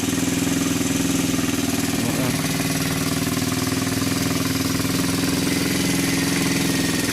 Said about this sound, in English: Definitely sounds a lot better than the other engine did.